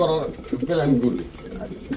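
Pigeons coo close by in a pigeon-selling setting, low throaty rolling calls that overlap with people talking nearby.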